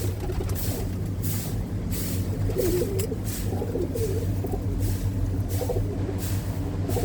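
Pigeons coo in low, rolling calls close at hand, repeating steadily over a constant droning rumble like nearby traffic or an engine, with no one speaking.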